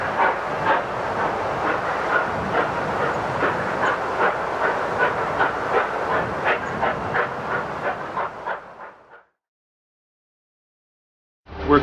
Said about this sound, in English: our passenger train continues on its way